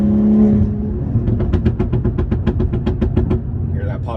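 A BMW G30 540i tuned to 530 hp, with its exhaust crackling and popping in a fast rapid-fire series over a low engine drone after a deep steady note, heard close up from inside the car on a mountain road.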